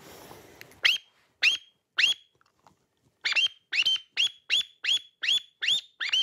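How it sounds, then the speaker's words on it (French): Whistle made from shotgun shell casings, blown in a series of short sharp chirping blasts, first three spaced apart, then a quicker run of about nine, loud and close. "on pouvait fabriquer des, des sifflets avec des douilles"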